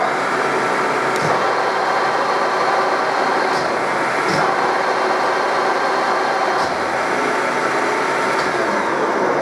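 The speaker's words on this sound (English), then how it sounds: "let me demonstrate you just how fast the feed is" A milling machine's table power feed running fast, giving a steady, loud mechanical whir and hum with faint periodic ticks, no speech.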